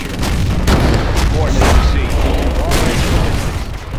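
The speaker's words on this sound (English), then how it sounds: "Got my missile launcher right here." In C&C Generals, a missile launcher fires amid a busy battle, with repeated booming launches and blasts mixed into loud, dense combat noise and unit voice lines.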